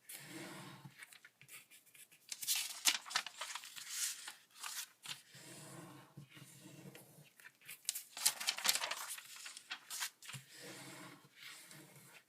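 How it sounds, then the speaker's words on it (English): Sheets of origami paper are torn apart by hand in short, crisp ripping bursts that come and go over several seconds, close and fairly quiet, with no talking. "tear it apart like I do, like this"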